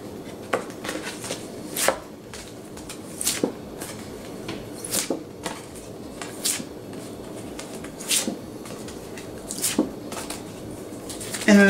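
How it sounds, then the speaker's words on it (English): Anime art cards being flipped through one after another: a series of crisp, irregular papery slaps and flicks at close range, spaced roughly a second apart over a quiet background, with no talking. "So let's flip through these real fast."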